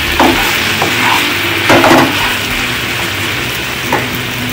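Paneer gets stirred in a hot frying pan, with a steady sizzle under a few scattered scrapes and knocks of the utensil against the pan.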